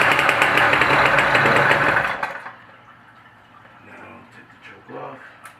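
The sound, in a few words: Schwinn Meridian motorized bicycle engine starting and running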